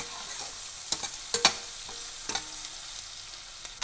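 Finely chopped onions frying over medium flame in a kadai with cumin, a quiet steady sizzle broken by a few sharp spatula clinks and scrapes against the metal.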